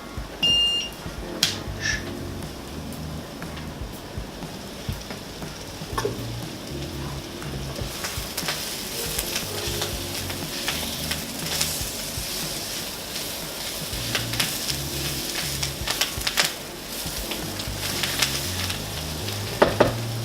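Leafy greens wilting and frying in a pan on a stove, a steady close sizzle with occasional scraping stir strokes, louder crackling in the second half, no voices.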